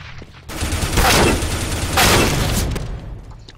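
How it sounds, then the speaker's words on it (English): A flashbang grenade detonates in a tactical shooter game: a loud, broad burst swells and rumbles for a couple of seconds, then a second surge follows before it fades. "Throwing flashbang"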